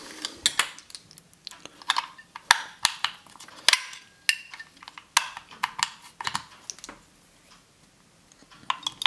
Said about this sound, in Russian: Итак, ставим мы сейчас батарейки.